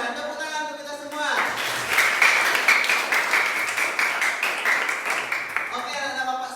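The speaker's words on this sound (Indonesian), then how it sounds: "Tepuk tangan untuk kita semua." Children and a teacher in a classroom clap together. A voice is heard first, then a burst of lively applause takes over, and talk returns at the close.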